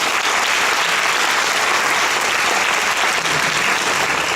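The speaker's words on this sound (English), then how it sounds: "I think they deserve another round of applause." Sustained, loud audience applause for performers and participants at a girls' Shakespeare competition final, a thick continuous wash of many hands clapping together at an even level throughout.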